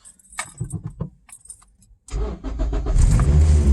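A Toyota Platz with newly made motor mounts is started: keys jangle and click for about two seconds, then the engine cranks and catches into a loud, steady idle close by.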